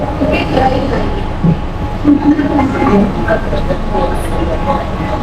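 A Mumbai local train rolls toward Dadar station, its steady rumble and rattling carriages heard from inside, with passengers chatting and murmuring over the continuous noise.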